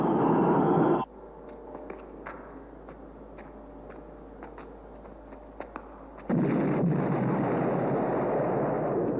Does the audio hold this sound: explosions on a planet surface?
yes